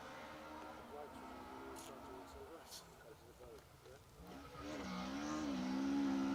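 A two-wheel-drive rally car drives a stage on the Nicky Grist Stages, its engine rising and falling from a distance and then revving louder as it nears, with a commentator talking over it.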